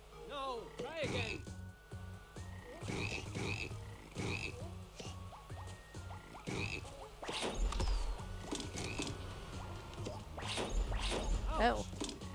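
Frogs croak repeatedly in the platformer BattleBlock Theater, a steady series of close, throaty calls running throughout over game music and effects, with someone talking intermittently over them.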